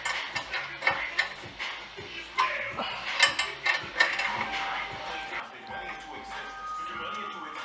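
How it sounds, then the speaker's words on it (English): A hand tool works at a stubborn nut under a 2008 Cadillac, making repeated ratcheting clicks and metallic knocks at close range, while someone talks over the work. "I'm struggling pretty much trying to get"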